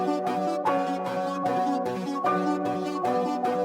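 A piano sample looping in a hip-hop beat, rhythmic chords struck in a repeating pattern with clear, regular attacks and no voices.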